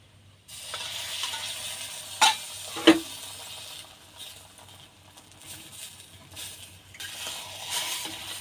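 An egg fries in a pan while an egg roll is made, giving a soft, steady sizzle with a couple of sharp scraping or tapping clicks from a utensil early on.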